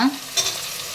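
Chopped onions and green chillies hitting a hot pan of oil, a brief close sizzle and stir with a louder onset, no talking.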